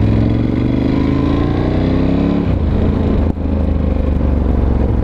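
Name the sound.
Ducati Scrambler 1100 Special exhaust popping on deceleration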